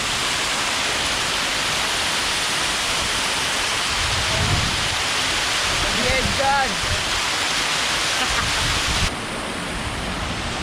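A waterfall in Dumanjug, Cebu roars in a constant, dense rush of water, with faint voices briefly audible beneath it midway.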